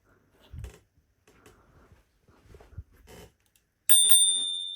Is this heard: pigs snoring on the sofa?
no